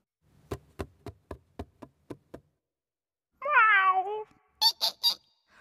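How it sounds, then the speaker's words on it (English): A cartoon cat meows in an animated story about a mouse moving house, a short wavering meow following a rapid run of eight light knocks, then a few high squeaky chirps. "It's a cat!"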